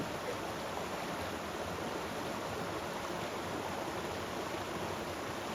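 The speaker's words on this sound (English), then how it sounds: "this is a little spillway out from the pond." Water pouring through a small spillway out of a pond along the Appalachian Trail, a steady broadband rush like a stream or small waterfall, constant and unbroken, with no voices.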